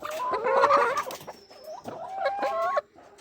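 Hens cluck and call in a poultry coop, several birds close by in two loud bursts separated by a short lull, with no talking.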